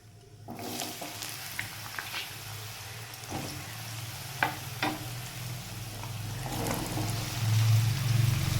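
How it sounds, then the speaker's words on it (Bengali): Chopped papaya frying in oil with panch phoron, a steady close sizzling hiss that grows louder toward the end, punctuated by occasional stirring clicks and scrapes in the pan, no voices. "পাঁচফোড়নটা ভাজাও হয়ে গেছে এর মধ্যে আমি এবার দিয়ে দিচ্ছি পেঁপে"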